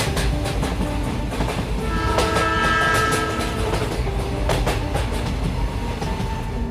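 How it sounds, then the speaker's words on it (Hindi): A train rolls into a station at steady, fairly loud volume, with rhythmic clatter of wheels over rail joints, a brief screechy metallic squeal in the middle and a continuous low rumble, no voices. "तभी थोड़ी ही देर बाद इन लोगों की ट्रेन वहां पर आ जाती है।"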